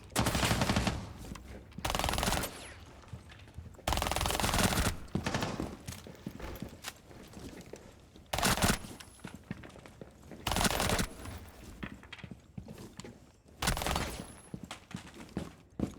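Gunfire in the shooter game Rainbow Six Siege comes in loud, dense bursts of rapid shots separated by short quieter gaps, repeating across the stretch.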